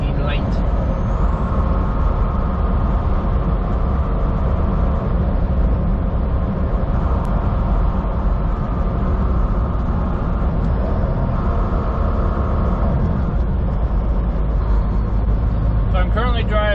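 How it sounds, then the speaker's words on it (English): A Volvo 860 truck drives through British Columbia, heard from inside the cab as a steady, loud low engine and road rumble that continues unbroken throughout. "So I'm currently driving a 860 Volvo."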